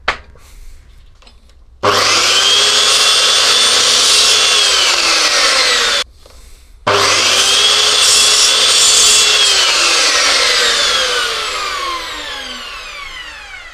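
A power saw cuts wooden pieces to size for an office desk in two long, loud passes, a brief gap between them, with pitch shifting as each cut progresses and a faint lead-in before.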